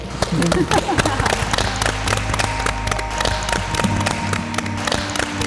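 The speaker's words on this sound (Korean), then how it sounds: "황적준 박사님에게 용기와 신념의 박수를" A studio audience claps for Dr. Hwang Jeok-jun, a sustained burst of many hands applauding together with faint tonal sounds in the background.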